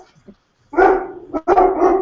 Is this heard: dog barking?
yes